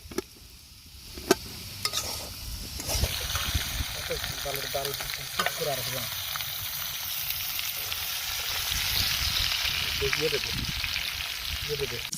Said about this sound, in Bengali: আর এইদিকে আলু আপাতত ভাজা কমপ্লিটের দিকেই